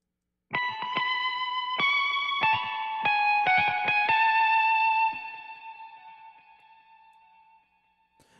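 Ample Sound virtual electric guitar programmed with a fast vibrato rate, playing a clean melodic line of distinct plucked notes that wobble quickly, then one held note ringing out and fading into silence.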